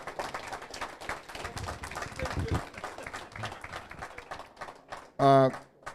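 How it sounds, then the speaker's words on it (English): Steady audience applause with many hands clapping, continuing for several seconds, followed by a brief loud burst of voice at the end. "Let's have a strong round of applause for these people, please."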